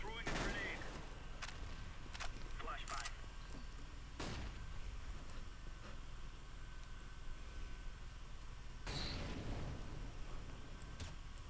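Gunfire in Counter-Strike: Global Offensive, a few loud sharp bursts spaced across a steady noisy background, with voices talking in between.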